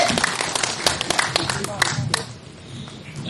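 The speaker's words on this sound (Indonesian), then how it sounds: "Kita kasih tepuk tangan buat yang ulang tahun" An audience claps in applause for a birthday celebrant at a 66th birthday gathering, a burst of scattered hand claps that thins out toward the end.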